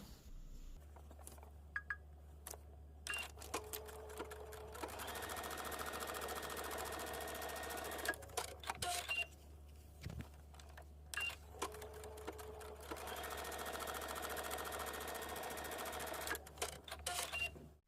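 A sewing machine basting fabric edges together runs in long, steady whirring bursts, stopping and starting several times, close and moderately loud, with short clicks and handling noises in the pauses and no talking.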